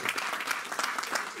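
A church congregation claps in acclamation during a sermon, giving a short burst of brisk, fairly close clapping with individual claps standing out, and no voices over it.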